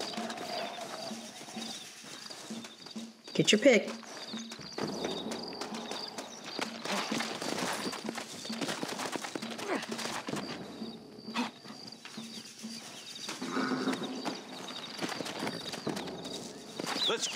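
Horse hooves clip-clop steadily through a Red Dead Redemption scene, several horses walking close by amid ambient game sounds, with a short louder burst partway through and brief speech over it.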